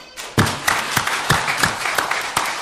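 A church congregation during a Sunday service claps in unison, about eight sharp, evenly spaced beats at a steady rhythm, loud and close, with no voices over it.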